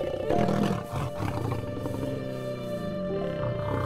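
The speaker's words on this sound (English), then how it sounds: "There's no sound in the wild that is as amazing as the roar of the lion." A lion roars in the wild in Zambia, a loud, close, sustained rumbling roar with grunting pulses that hold steady for several seconds, with no talk over it.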